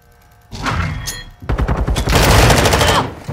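Automatic gunfire in Modern Warfare 2: a short burst, a brief pause, then a longer sustained stretch of rapid, loud shots close at hand.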